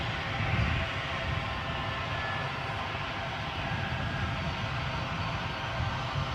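EasyJet airliner taxiing along an airport taxiway at Edinburgh, a continuous low engine rumble and whine at moderate distance, steady throughout with no voices.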